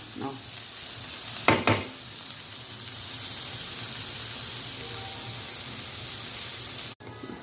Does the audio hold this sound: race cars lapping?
no